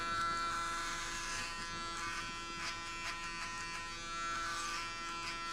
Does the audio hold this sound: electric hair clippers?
yes